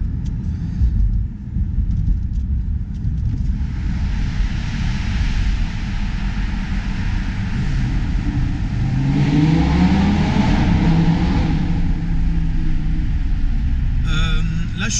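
A Lamborghini Gallardo Superleggera engine revs and climbs through its range close by, a deep roar rising and falling with shifts, steady road rumble underneath.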